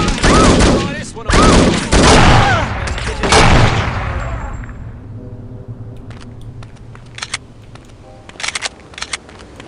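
Heavy automatic gunfire in the spy shooter game No One Lives Forever: loud sustained bursts of rapid shots for several seconds, then fading to scattered lighter clicks and pops.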